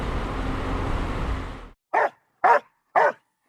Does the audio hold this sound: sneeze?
no